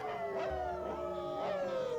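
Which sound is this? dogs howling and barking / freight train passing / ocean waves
dogs howling and barking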